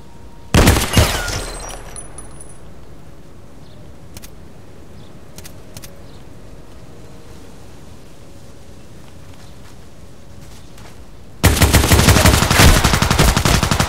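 Gunfire in the online shooter Contract Wars with an H&K 416c or RPK-74 rifle: a loud opening burst of rapid shots, a long quiet stretch with faint scattered pops, then sustained dense automatic fire at the end.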